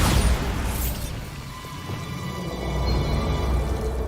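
Bombarda explosion spell in the Hogwarts Legacy game: a loud blast at the start with a bright crackling burst, fading into a rumbling debris wash and low noise.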